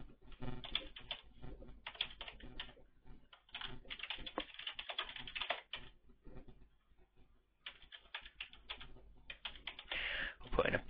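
Someone types a password on a computer keyboard, a close, dense run of quick key clicks that comes in bursts and briefly pauses near the middle before resuming.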